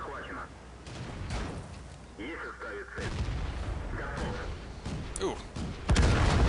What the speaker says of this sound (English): Again, artillery trying to focus down on us.